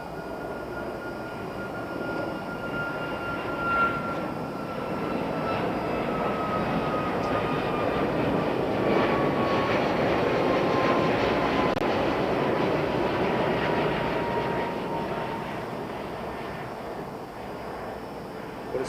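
A Boeing 737 MAX passes at Heathrow Airport with a broad jet roar that swells to a peak and then slowly fades, heard from a distance and without speech.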